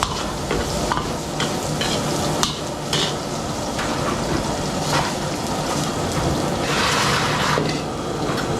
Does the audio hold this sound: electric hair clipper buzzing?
no